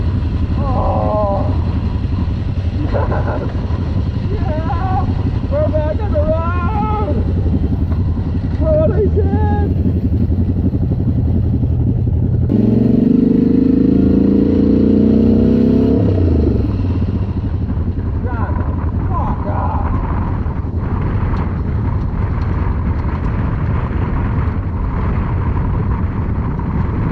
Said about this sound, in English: I gotta make this engine quieter. It is so fucking loud. The chain is obnoxious on this thing.